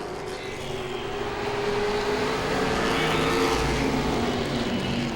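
A late model race car roars past on the outside at Langley Speedway, its engine building to a loud, steady drone that swells and then holds.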